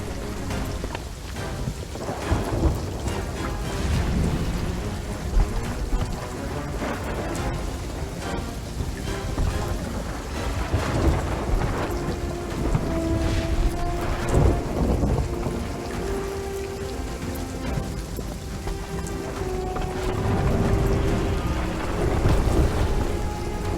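A thunderstorm in the Sea of Thieves pirate game, with steady loud rain, repeated rolling thunder and lightning cracks, joined by some tonal background music, and no voices present.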